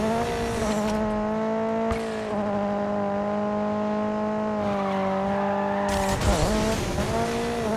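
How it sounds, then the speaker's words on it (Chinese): Car engine droning steadily with strong harmonic whine in the Need for Speed Mobile racing game during a police chase in open-world mode, with a brief tire squeal and skid burst near the end. "用引擎声盖过去。"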